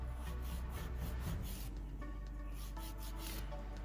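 A nail file rasps back and forth over press-on nail tips to taper them, a soft, close, steady rubbing scratch with faint repeated strokes.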